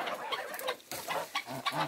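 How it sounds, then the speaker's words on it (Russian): Domestic geese, a small flock of five old birds on a farmstead, give short clucking, honking calls in several close bursts with brief pauses between them. "Вот, вот это мои старые гуси, 5 штучек"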